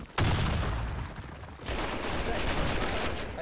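Gunfire in the online shooter Blackshot during a clan war match, a burst of rapid shots, a brief gap, then more sustained fire, fairly faint and somewhat distant, with no talk over it.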